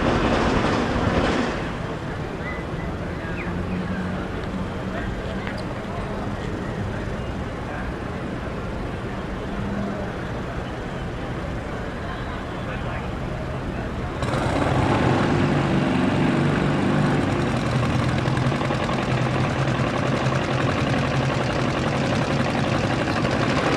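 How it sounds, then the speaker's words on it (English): A Top Fuel twin drag racing motorcycle thunders with an enormous, continuous thumping roar at a drag strip, surging louder about midway. A voice may be faintly present under the engine. "Motorcycle in the right lane, making that enormous thumping noise."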